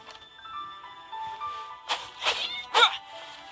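Three short cat meows from the video game Genshin Impact arrive in quick succession over a soft, steady background tone, fairly close and moderately loud.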